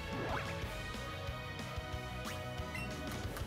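Waterfall attack in Pokémon Let's Go Pikachu, a dense, sustained rush of splashing, dripping water effects with scattered crashing hits, quiet overall with no talk.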